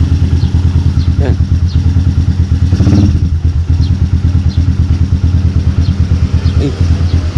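A motorcycle engine idles steadily during warm-up, a loud, close, even throbbing pulse throughout with a brief clatter near the middle, while a voice talks over it.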